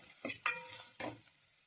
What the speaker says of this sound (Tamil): நல்லா வெங்காயத்தை ப்ரௌனாக வதக்கிக்கலாம்